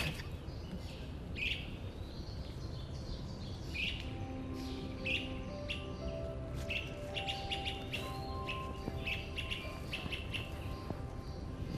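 Red-eyed vireo singing in Central Park, its short repeated phrases recurring through a steady outdoor background with other faint birdsong and distant ambient noise.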